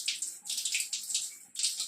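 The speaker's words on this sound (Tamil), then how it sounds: "தண்ணி பயங்கர ஹீட்டாக வருதுங்க" Hot water gushes from a tap fed by a newly installed water heater, a steady close splashing stream that briefly dips and resumes, with no talking.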